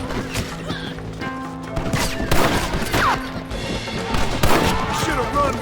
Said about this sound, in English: Don't waste time aiming, just shoot!